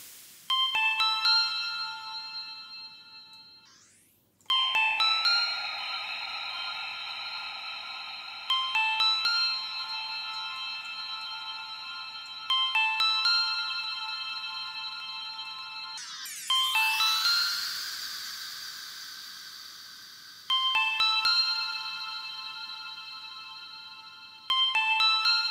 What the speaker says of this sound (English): And then if you're going for more of a reverb sound.